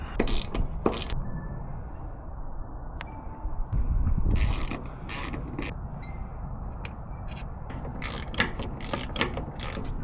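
A ratchet wrench loosening the bolts on a fuel pump cover, with repeated close clicking bursts of the pawl separated by short pauses and a steady mechanical background, and no talking.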